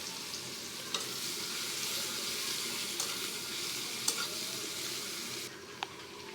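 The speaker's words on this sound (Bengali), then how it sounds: "পেঁয়াজগুলা হালকা করে ভেজে নেব" Onions fry lightly in a pan with a soft, even sizzle and a few small clinks and stirring knocks scattered through it, fairly quiet and with no voices.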